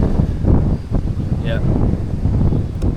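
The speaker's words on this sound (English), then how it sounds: "Oh man, it's very windy." Strong wind buffets a microphone outdoors on a morning walk, a dense low rumble that roars continuously under brief talk.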